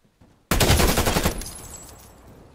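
A Krig 6 rifle in Call of Duty Black Ops Cold War fires a rapid loud burst after brief quiet, then the shots trail off into a fading echo.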